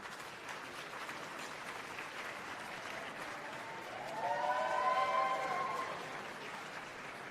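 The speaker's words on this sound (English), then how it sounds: "please stand and a round of applause for their hard work tonight" Steady applause fills an awards-gala ballroom as the Board of Governors stands at the Mid-America Regional Emmy Awards. The clapping swells midway, with some whoops and cheers rising above it, then settles back to an even wash.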